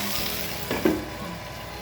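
Fish curry masala frying in a pan: a soft continuous sizzle with a small spike of spattering partway through, close and fairly quiet.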